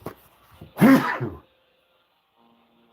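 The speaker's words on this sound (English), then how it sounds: "The key is to sneeze and then blow your nose." A single loud sneeze bursts out close by in a quiet room, preceded by a faint inhale and followed by near silence.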